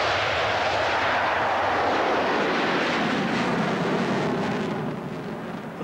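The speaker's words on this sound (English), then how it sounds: "The Thunderbirds, the United States Air Force's top formation aerobatic team, positively leaping into the air with their F-16 Fighting Falcons." Thunderbirds F-16 Fighting Falcon jets take off at an air show, a loud broad roar of jet engines that holds steady and then begins to fade slightly as they climb away, with no talk.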